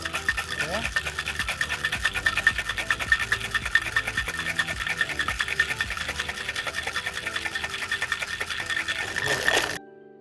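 Melon and cucumber juice shaken with ice in a shaker produces a fast, steady rattling and scraping that continues for several seconds and then stops abruptly.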